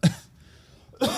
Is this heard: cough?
yes